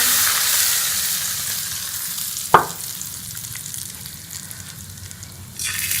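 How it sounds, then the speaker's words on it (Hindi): Hot oil tempering crackles and sizzles steadily over chana dal, with one sharp splash-like pop partway through, then the hiss settles and briefly flares again at the end. "दाल के ऊपर हम ये तड़का लगा देंगे।"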